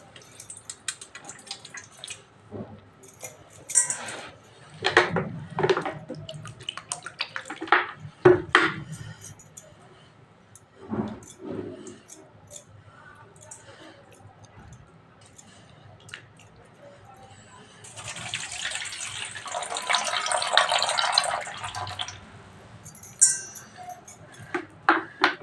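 Yellow moong dal is rinsed by hand in water, producing scattered squishy splashes and drips in irregular bursts, and a longer stretch of sloshing water near the end.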